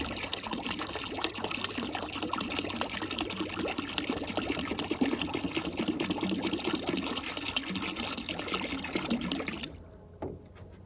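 Water poured into pipes of a DIY septic system, a steady close trickling and gushing flow that runs continuously before stopping abruptly near the end.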